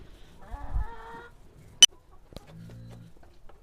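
A few soft laying-hen clucks and murmurs with a sharp click partway through, fairly quiet and close, with no talking.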